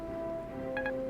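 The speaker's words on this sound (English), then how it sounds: "Oh, that's my phone." A mobile phone text message alert sounds as a brief, soft double beep, rising over steady background tones and fading quickly.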